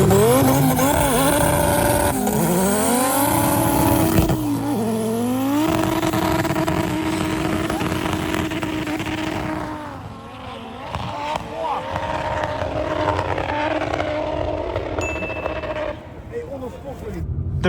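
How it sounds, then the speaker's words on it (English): Drag racing cars, including a fast quattro Audi S4, roar hard on a ski slope, engines climbing through gear changes in loud sustained waves that fade somewhat midway, with a voice talking over the noise. "I'm actually racing against the S4, which I'm a little bit worried because that S4 is insanely fast"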